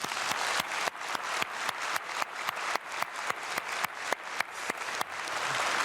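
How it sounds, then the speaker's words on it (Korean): A congregation at a dawn prayer service in a church auditorium claps for students, crisp claps landing in a steady, even beat throughout. "우리 박수로 우리 축복하겠습니다"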